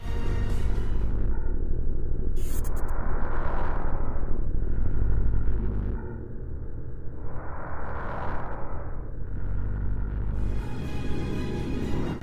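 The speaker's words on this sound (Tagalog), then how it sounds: "Ganito ang tunog ng Merkuryo" Sonified Mercury: a low rumbling roar with slow, airy whooshing swells rising and fading a few times, continuous and without speech.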